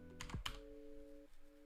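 A single keypress on a computer keyboard, the enter key struck once, a short near click with a couple of quick tapping transients, alone and without talk.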